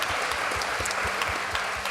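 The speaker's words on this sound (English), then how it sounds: "if you wouldn't mind giving Rick a big round of applause" Concert audience applauding for a performer at a 30th anniversary show of an Irish traditional music group, steady dense clapping throughout with a few sharper claps, alone without talk.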